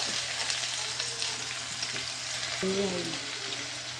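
Raw jackfruit frying in a pan for sukka makes a constant close sizzle with light stirring scrapes and a short tonal squeak near the end, and no voices.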